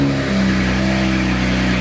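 A BMW 335 engine runs loud and close with a rough, steady rumble that holds an even pitch throughout, with no voices over it.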